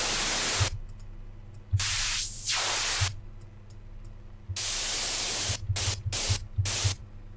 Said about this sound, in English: We're adding white noise because that's what we do.